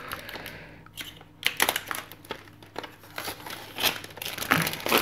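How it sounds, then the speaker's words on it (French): Plastic packaging from a colouring-supplies haul is cut and torn open, giving irregular close crinkles, crackles and sharp rips that grow busier toward the end. "C'est sûr, ça va faire du bruit, c'est du plastique."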